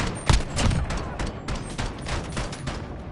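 Rapid bursts of automatic gunfire from the video game Call of Duty Modern Warfare, a dense fusillade of sharp shots repeating throughout at moderate loudness, with no voices in the clip.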